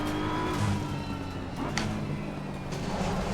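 A BMW M4 GT3 race car in the Assetto Corsa Competizione game, its engine note droning steadily with a few brief sharp bursts and tonal shifts, heard alone without talk.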